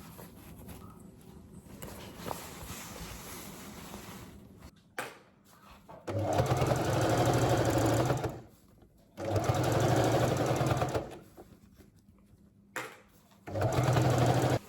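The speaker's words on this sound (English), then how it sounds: "fold it once, fold it over, and stitch to enclose the seam allowance fully" A sewing machine stitches a seam on a fabric bag with a bias-tape finish, running in three loud, steady bursts of about two to three seconds each, separated by brief pauses and faint handling noise.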